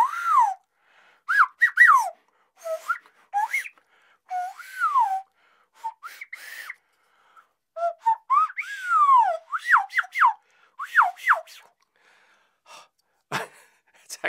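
A nose whistle plays a string of short, pure, sliding whistled tones, each followed by a brief gap and a breathy intake, ending with a sharp sniff-like burst.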